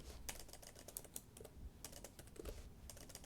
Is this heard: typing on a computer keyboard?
yes